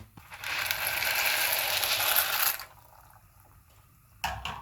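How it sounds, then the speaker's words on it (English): Dry elbow macaroni pours into a pot of boiling water with a loud, rattling, rushing cascade lasting a couple of seconds, followed by quieter bubbling and a brief clatter near the end. "I'm going to put my macaroni into the boiling water"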